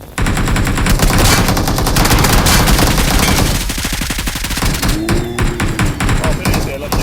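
Rapid automatic gunfire from a video game shootout, dense and loud, with bursts running almost continuously and a brief swooping tone near the end, while a voice occasionally calls out over it.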